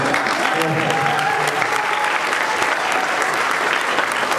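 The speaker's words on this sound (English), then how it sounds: "we should give them a round of applause" Wedding guests applauding the bridesmaids during a toast, a loud, dense, continuous round of clapping from a roomful of people, with faint voices mixed underneath.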